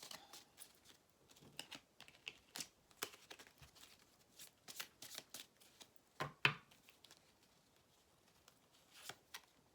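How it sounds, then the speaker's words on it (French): Cards from a deck being handled and placed, giving a quiet series of irregular crisp taps and soft slaps with small shuffling rustles between them. "on va mettre une carte comme ça en même temps"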